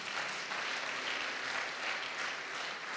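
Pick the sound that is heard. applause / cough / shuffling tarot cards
applause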